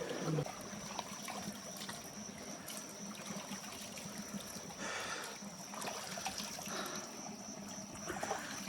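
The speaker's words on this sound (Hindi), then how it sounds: "इस तरीके के जंगल में दोस्तों, इस तरीके का झरना बहना, पानी बहना, ये चमत्कार होता है।" Water flows continuously in a stream through a forest, a steady hissing rush with no clear breaks, somewhat faint and distant-sounding.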